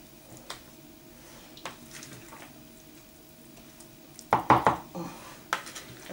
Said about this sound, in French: Je vais remuer un peu et je vais verser.